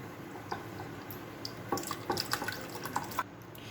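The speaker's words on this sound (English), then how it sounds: "Now into this I'm going to pour the milk." Milk poured into a pan of set, hardened caramelized sugar for bread pudding: faint trickling and dripping with a few soft clinks, heard quietly and alone.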